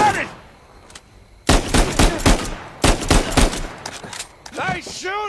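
Bursts of gunfire from the Uncharted video game, a loud volley of rapid shots in two clusters, with in-game character voices between them.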